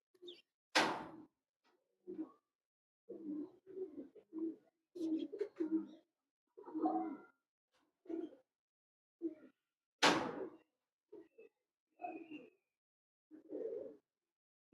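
A female Bullet Teddy pigeon coos in a series of low rolling phrases with gaps between them, close by, with a couple of sharp clatters mixed in.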